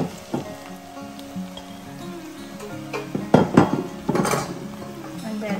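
Tofu sautéing with onion for tofu adobo, with a utensil scraping and clanking against the pan in irregular knocks over a soft sizzle, and a voice speaking at moments.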